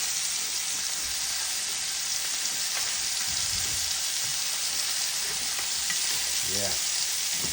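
Ribeye steak frying in butter in a pan, with a steady, close, continuous sizzle and crackle throughout and a few faint clinks near the end.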